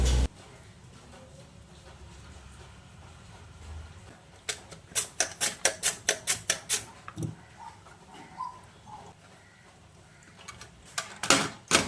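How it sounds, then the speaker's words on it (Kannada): A knife slices a peeled pumpkin on a cutting board, giving a quick series of crisp, evenly spaced taps near the end over a low room hum, with no one talking. "ಈಗ ಸ್ಲೈಸ್ ಮಾಡುವ."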